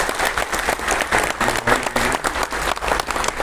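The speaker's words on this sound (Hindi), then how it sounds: "एक बार प्रताप जी सर नाइक जी के लिए, दिलीप जी के लिए ताली बजाकर स्वागत कर दीजिए आपको।" An audience at a bhoomi pujan (foundation-laying) ceremony for a Hindi-speakers' hall in Mira Bhayandar applauds steadily. The clapping is dense, loud and sustained throughout.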